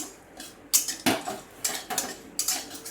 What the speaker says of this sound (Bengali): একটু ফোড়নটা একটু নেড়ে নিচ্ছি